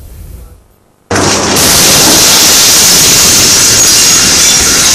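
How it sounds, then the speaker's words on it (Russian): Chelyabinsk meteorite explosions and shock-wave booms over a frozen Russian city: a quieter low rumble gives way to a sudden massive blast, followed by sustained loud, roaring broadband noise that persists to the end. "Яркая вспышка в небе и канонада оглушительных взрывов."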